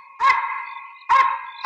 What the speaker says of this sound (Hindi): एक कुत्ते पुलिस वालों को देख के क्यों भौंकते हैं?